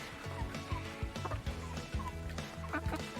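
Farm fowl make soft, rapid clucking and gobbling calls up close, a busy overlapping chatter of little sounds with no talk over it.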